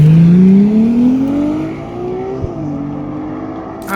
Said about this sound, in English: This is a Ferrari 296 GTS.